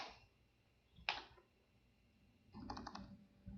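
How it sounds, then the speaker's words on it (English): Quiet computer keyboard typing as a username and password are entered, a few soft clicks near the start and middle, then a short burst of rapid keystrokes, all faint and close. "if I start typing that in here"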